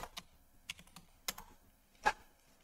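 Keys are typed on a computer keyboard in a handful of sparse, separate clicks with one firmer tap near the end, close and quiet with no voice over them.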